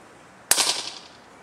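A single sharp shot from a suppressed BAM 50 XS-B50 custom air rifle cracks out close and loud, followed by a short fading hiss and rattle.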